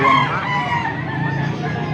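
Chickens cluck and a rooster crows nearby at a poultry sale, a busy overlapping mix of poultry calls with no pause.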